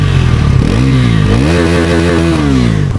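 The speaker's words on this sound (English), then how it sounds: "Let me show you the exhaust note quickly and we'll get onto the highway." A Bajaj NS400 motorcycle revs hard, its exhaust note climbing and falling in loud, close bursts that sweep up in pitch and then settle back toward idle, with no talking.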